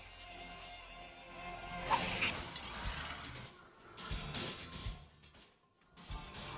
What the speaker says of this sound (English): Fill the other bottle with cold water.